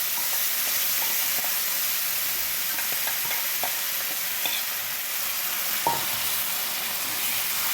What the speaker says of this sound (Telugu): ఈ పప్పు వేసేస్తున్నాను తాలింపులో.